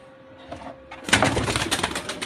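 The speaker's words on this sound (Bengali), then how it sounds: "পাখিটা, এই যে উড়ে যায়" A bird bursts into flight at close range with a rapid, papery flurry of wingbeats after a quiet moment, the flapping continuing steadily until the end with no talking.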